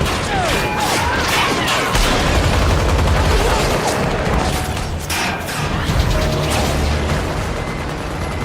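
Henchmen open fire in a violent action film scene, with dense overlapping gunshots, bursts and mechanical clatter in a loud, continuous barrage mixed with shouting.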